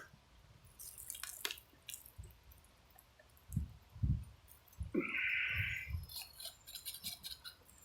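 Hot water poured from a pot into a cook sleeve holding a dried food mix, outdoors at a bug-out survival camp, with close, soft dripping and squishy splashing that comes in short irregular bursts.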